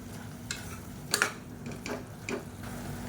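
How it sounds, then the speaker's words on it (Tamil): Soya chunk kurma with ground coconut paste is stirred in a pan: a few scraping spoon strokes and soft wet clinks over a low, steady simmer, close by and with no talking. "சேர்த்துட்டு ஒரு தடவை கலந்து விட்டுக்கலாம்."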